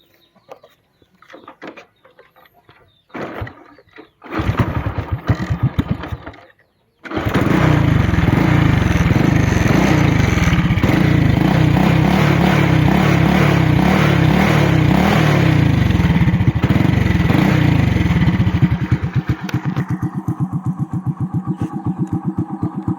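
A Honda Wave 100 motorcycle engine starts after a few sputtering attempts and settles into a loud, steady close-up putter, then drops slightly in level near the end.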